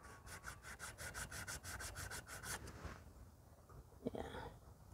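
Hand sanding with 220 grit sandpaper on a Briggs & Stratton 5HP engine part, a quick run of rhythmic rasping strokes for about three seconds, then a few softer rubs and a small knock, close and alone.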